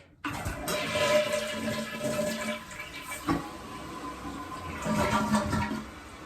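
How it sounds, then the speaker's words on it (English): A toilet flushes with its tank cover on, the water rushing loudly near the microphone and then settling into a steady refill hiss from a Korky QuietFILL tank fill valve. "let's do one more flush."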